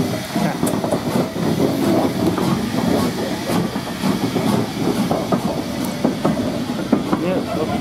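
LMS steam locomotive 45690 Leander working a train at Ongar, a continuous loud rail rumble with hissing steam and clicking wheel sounds, with people talking over it.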